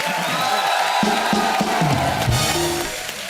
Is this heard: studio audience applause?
yes